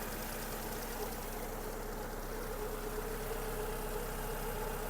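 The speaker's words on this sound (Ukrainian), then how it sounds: "Обороти не плавають, двигун працює чітко." A Volkswagen Golf with automatic transmission idles steadily, a low continuous rumble with an even hum that holds without revving up or down, no voices present.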